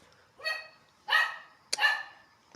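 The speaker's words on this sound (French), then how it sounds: "il y a un chien qui aboie" A dog barks three times at a steady pace, sharp single woofs at moderate volume a little way off, heard from inside a 1990s bus in a driving game, with no talking over them.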